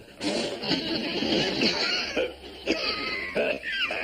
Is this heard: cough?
yes